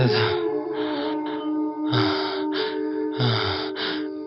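Heavy, labored breathing with repeated loud gasps for air, about three strong breath cycles in a steady rhythm, close and prominent.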